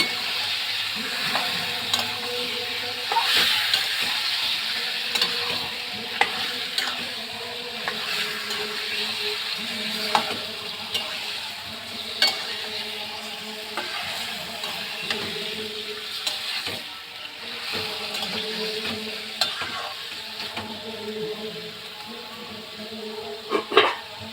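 Meat cooks in a lightly spiced curry, stirred and fried in a pan with a constant sizzle, while a spatula scrapes and clicks against the metal in scattered sharp knocks, near and clear with no talking.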